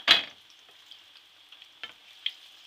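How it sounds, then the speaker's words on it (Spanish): Ripe plantain slices frying in a pan, a soft steady sizzle with a sharper crackle at the start and a few small pops and stirring scrapes after, fairly quiet with no talking. "haciendo una cosa que se llama plátano macho frito"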